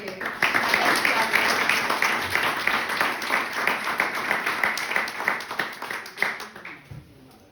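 A Spanish lecture audience gives a round of applause to welcome the speaker, with dense clapping that swells quickly, holds steady for several seconds, then thins out and fades near the end.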